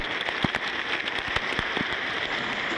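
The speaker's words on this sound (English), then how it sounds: "It is raining again." Doldrums rain shower falling at sea, a steady hiss of rain with scattered sharper drop impacts, fairly close and continuous, with no voices.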